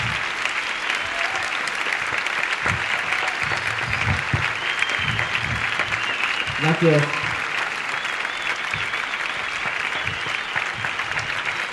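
An audience at a MadridFusion Mexico culinary presentation applauds a chef's kitchen team with sustained, even clapping, while a voice speaks briefly over it.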